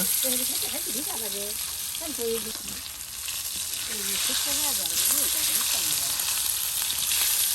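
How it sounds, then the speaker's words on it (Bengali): Taki fish frying in oil on a griddle, a continuous bright sizzle filling the background while a person talks over it in bursts. "এই যে দেখুন টাকি মাছ সুন্দর করে তেলে এই যে ভেজে দেওয়া হচ্ছে"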